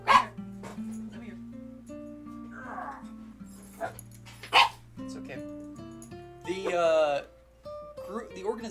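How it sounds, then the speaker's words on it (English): A pet dog barks and yips repeatedly nearby in a home, sharp bursts scattered throughout, with a longer whimpering bark run toward the end, mixed over background music. "Sorry, I got the barking."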